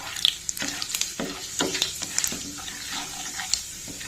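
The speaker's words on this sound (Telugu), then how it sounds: "ఇప్పుడు పోపు గింజలు వేసుకుందాం" Tempering seeds sizzling in hot oil in a pan already holding fried red chilli, with close crackling and spitting bursts over a steady frying hiss.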